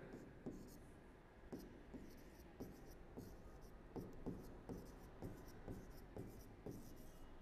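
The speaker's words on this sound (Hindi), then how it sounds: "लिख लेते हैं इधर" Short scratchy pen or chalk strokes tap out a regular rhythm on a board during a zoology lesson, faint and close, with a voice speaking softly underneath.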